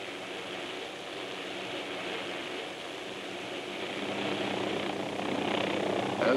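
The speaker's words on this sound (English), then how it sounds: "As we watch a maximum performance takeoff" An OH-6 helicopter performs a maximum performance takeoff, its rotor and engine droning steadily at a distance and growing louder toward the end, with no talk.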